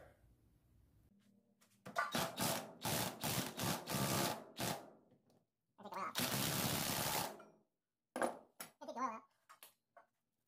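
A Earthquake impact wrench with a one and seven-eighths socket hammers at a Harbor Freight floor jack part, loud rattling bursts in several long runs separated by pauses.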